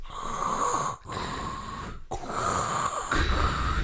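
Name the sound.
imitation of heavy respirator breathing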